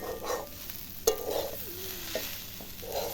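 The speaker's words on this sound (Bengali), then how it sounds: "হালকা করে সর্ষের তেল সাইড দিয়ে দিয়ে দিলাম দিয়ে এভাবে একটু নাড়তে থাকলাম" Shola kochu (taro) being stirred in mustard oil in a pan, with a faint sizzle under scattered scraping and clinking of a utensil, one sharp knock near the start, quiet and close.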